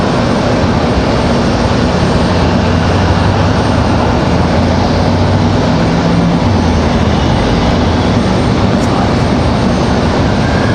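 WestJet airliner at Raleigh Durham airport, a loud steady roar of jet engines with a low drone, continuous for the whole stretch.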